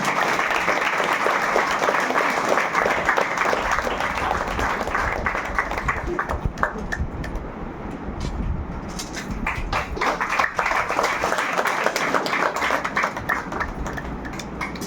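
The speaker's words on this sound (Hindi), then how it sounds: "आप बहुत जोरदार ताली बजाएं" An audience in a spiritual class hall in Lodhi Road, New Delhi, claps steadily in loud, sustained applause that rises and dips but never stops, with faint voices underneath.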